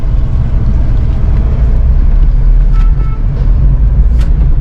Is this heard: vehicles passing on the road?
yes